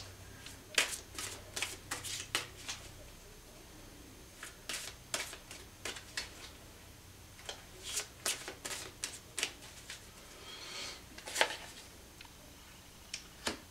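Tarot cards being shuffled by hand, a run of crisp riffling bursts in an irregular rhythm, close and moderately loud, with no talking over them.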